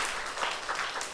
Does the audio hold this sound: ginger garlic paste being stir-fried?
no